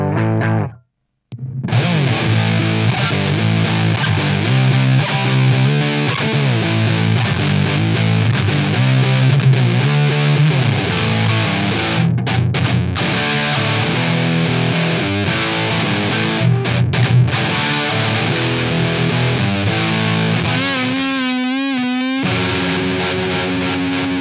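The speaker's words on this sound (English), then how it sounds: "a distortion pedal, whether it be a big muff, fuzz pedal," Loud, heavily distorted electric guitar played through a fuzz pedal, continuous with a thick fuzz tone, briefly cutting out near the start and warbling toward the end.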